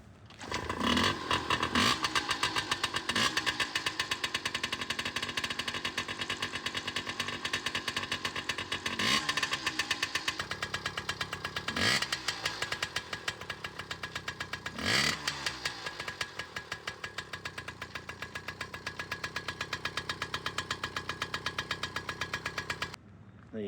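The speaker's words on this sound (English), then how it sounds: "That's the top end rebuild and first start up of the Pw50" A Yamaha PW50 two-stroke dirt bike runs after a top-end rebuild, its engine buzzing continuously and close with a rapid rattling idle and several sharp revs over about twenty seconds.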